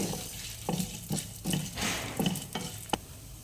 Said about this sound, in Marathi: आता आपण त्यामध्ये ही अर्धी वाटी घेतलेली तुरडा टाकणार आहोत भाजण्यासाठी